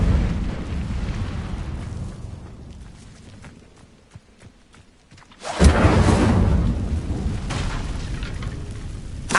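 The Incendio fire spell is cast in a video game, a roaring rush of flame erupting suddenly after a quieter rumbling stretch, then sustaining as a loud, broad whoosh with no speech.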